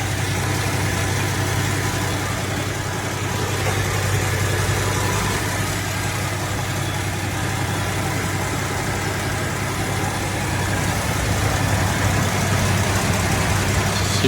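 A classic car engine idles nearby, a constant even rumble with a low steady hum that holds unchanged throughout, with no voices.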